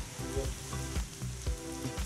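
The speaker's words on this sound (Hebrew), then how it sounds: "נתחיל לטגן." Onion and tomatoes frying in a pan, a steady close sizzle with a few soft stirring knocks spaced through it and no voices.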